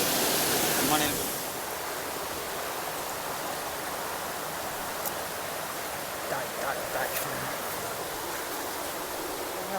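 The Jalatarangini waterfall near Maredumilli roars in a steady, even rush of water, slightly louder at first, with faint distant voices briefly audible later.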